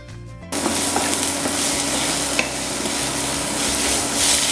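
Chopped onions with ginger and garlic sauté in hot oil for a kurma, a loud steady sizzle that starts abruptly and carries faint stirring scrapes, with no voices.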